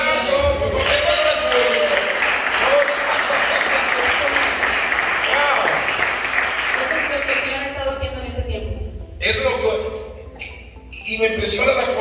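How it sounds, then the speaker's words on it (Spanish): A large crowd at a church book launch applauds loudly and steadily for several seconds, then the clapping thins out and fades with brief pauses. "¡Aplauso!"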